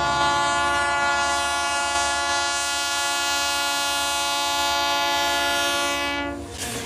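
The Whistler Mountaineer passenger train rolls along near sea level beside the Pacific in western Canada, its horn sounding one long, steady, loud blast over the rumble of the cars before cutting off.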